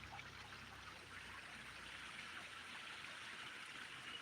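Runoff water from farms flows in a steady, soft trickling stream, faint and continuous with no voices.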